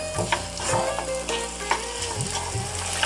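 Steady sizzling of food frying gently in a pan over medium heat, close and continuous, with occasional stirring scrapes and crackles.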